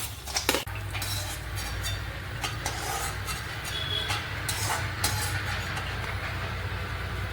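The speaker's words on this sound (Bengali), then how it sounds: "এবারে কাজু দিয়ে দিচ্ছি" Cashews frying in ghee in a pan, with a steady low sizzle under sharp metallic clinks and scrapes of a spoon stirring, one louder clatter near the start.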